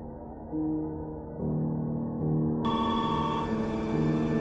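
A telephone rings in a horror film, a steady electronic trill over a low droning score, with a brighter ringing tone cutting in partway through and continuing to the end; no voices.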